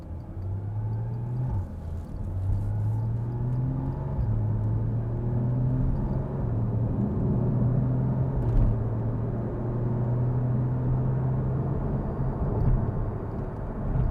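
A 2014 Porsche Cayman pulls steadily from inside the cabin as its engine drone rises and steps down through several gear shifts, with a low road rumble underneath and no talking.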